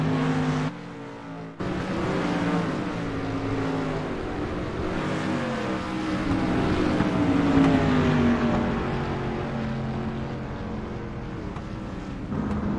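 Street stock race cars roaring around a dirt track during a heat race, loud engine drone rising and falling as cars accelerate out of the turn and pass close by, sustained with no talk.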